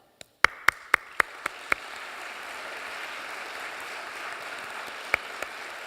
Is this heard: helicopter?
no